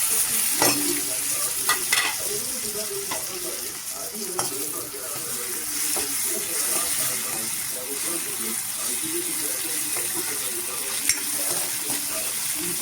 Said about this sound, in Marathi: छान असं मॅश होईपर्यंत भाजूया